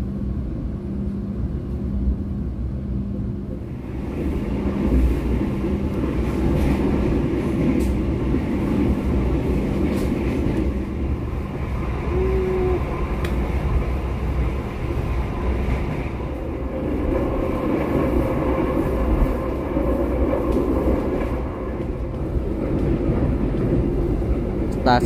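Trains at Nganjuk station in Indonesia, a continuous loud rumble of rolling rail cars heard from on board, steady and close, with voices talking over it.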